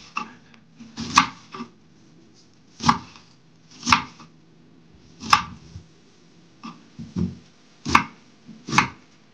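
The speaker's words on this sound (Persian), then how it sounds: "پیازامون رو نگینی خورد میکنیم. هر چقدر ریز باشه خوشمزه تر." Onions are finely diced with a knife on a board, about eight to ten sharp, separate chops at an uneven pace, close and clear with no talking.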